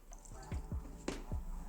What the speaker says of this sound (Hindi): अब इसमें हम थोड़ा थोड़ा करके पानी डालेंगे और एक सॉफ्ट डो लगा लेंगे।